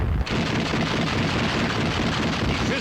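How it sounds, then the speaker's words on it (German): Dense, continuous roar of heavy anti-aircraft (flak) gunfire and booms firing on an enemy bunker, 1941 wartime footage, steady and loud throughout with no clear gaps between shots. "Flak nimmt einen feindlichen Bunker unter Feuer."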